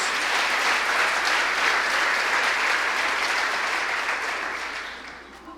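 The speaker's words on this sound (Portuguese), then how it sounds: "Aplauda mais uma vez a Jesus" A church congregation applauds in a long, full burst of clapping that stays dense and steady before tapering off near the end.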